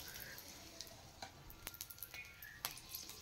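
A dried red chili fries in hot oil in a home kitchen, a faint crackling sizzle with scattered sharp pops and ticks over a soft steady hiss.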